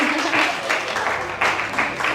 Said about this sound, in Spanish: Un aplauso para estos científicos.